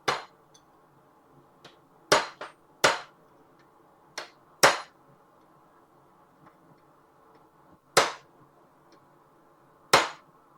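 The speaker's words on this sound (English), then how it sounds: "And then we'll hammer it like so." Metal workpiece struck with a hammer during sculpture and bottle opener forging, giving sharp isolated ringing blows at irregular intervals, about eight in all, loud and close with quiet gaps between.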